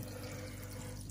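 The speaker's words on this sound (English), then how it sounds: "The water is drizzling off of a bit of bark." In a frog tank, water drizzles off a piece of bark in a steady, faint, continuous trickle that does not change throughout.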